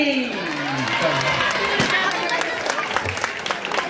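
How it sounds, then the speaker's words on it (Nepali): A crowd claps in a scattered burst of applause while voices talk and call out over it. "अब ताली ताली।"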